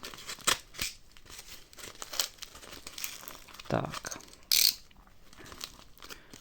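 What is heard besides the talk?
unwrapping parcel: garbage bag, tape, zip bag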